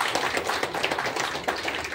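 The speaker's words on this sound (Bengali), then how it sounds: "প্রদীপ উজ্জ্বলন একটা জোরে হাততালি হয়ে যাক" An audience claps during the lamp-lighting at an art college opening ceremony. The crowd applause is steady and fairly close and runs through the whole moment.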